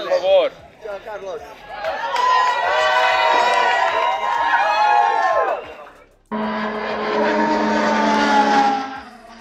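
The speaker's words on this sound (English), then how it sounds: "We see the cars running down the track" Formula 1 cars scream past on the Imola track on a sunny day, with two high-revving engine passes rising and fading one after another over a cheering, chattering crowd of fans.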